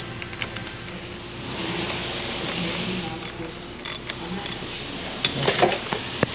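Center nut being loosened on a Genesis GV80 during a no-start repair, heard as a few short metallic clicks and ratcheting ticks, with a brief louder burst of clatter near the end over a quiet room.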